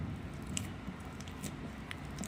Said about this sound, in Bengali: মেখে নেওয়া হচ্ছে এরকমভাবে ভালো করে মুলায়ম করে নিতে হবে